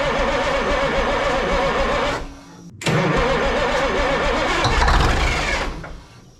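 Engine of an old Ford cabover truck left abandoned in a field cranks, catches and runs roughly, cuts out briefly, then restarts and revs unevenly before dying away, loud and close.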